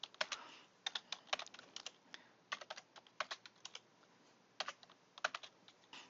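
Typing on a computer keyboard during spreadsheet data entry in Excel 2010, heard as close, crisp key clicks in quick irregular bursts separated by short pauses, with no talking.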